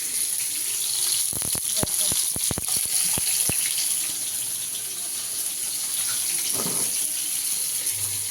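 Tap water runs steadily into a kitchen sink while potatoes are washed, a constant close hiss with a burst of clattering knocks early on and a short soft murmur near the end, heard alone.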